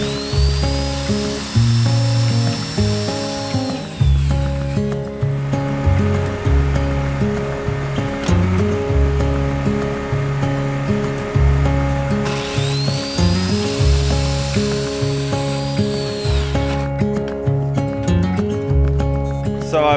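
A power saw cuts rough-cut lumber in half, its motor whining up sharply into each of two long cuts over a steady, loud mechanical drone.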